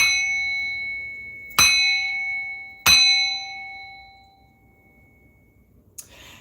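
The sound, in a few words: ringing a bell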